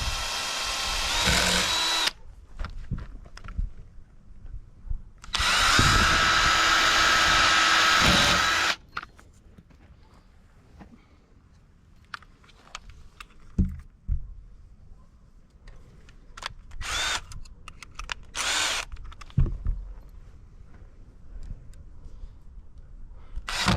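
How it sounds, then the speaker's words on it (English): Power drill driving screws into a deer feeder tube, two loud close-up runs of whirring that start and stop, followed by quieter intermittent clicks and handling noises. "Now we're going to run these screws in here till I feel the metal."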